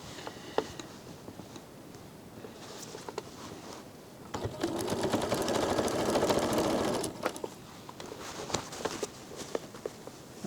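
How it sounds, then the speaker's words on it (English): A serger sewing machine stitches the front and back quilt panels together, a steady mechanical whir running for a few seconds in the middle, with lighter handling clicks and taps before and after. "So I'm stitching on the front and back panel first."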